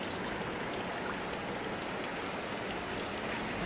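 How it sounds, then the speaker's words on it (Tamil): Heavy thunderstorm rain pours steadily, with dense, constant broadband hiss and pattering of drops on surfaces, and no voices over it. "நல்லா மழை பெய்யுதுங்க சூப்பராக மழை பெய்யுது நல்லா இடி மழை"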